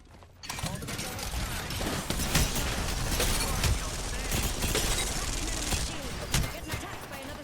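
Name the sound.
Rampart minigun firing in Apex Legends video game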